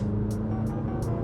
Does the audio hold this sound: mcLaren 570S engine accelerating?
yes